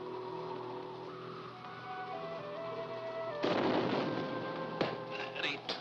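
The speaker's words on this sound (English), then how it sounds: "That eternal blasting?" Repeated explosive blasting rumbling in the distance in a 1940s mountain setting, a burst of muffled booms arriving after a quiet stretch of low hum and tonal music, with a few sharper cracks following.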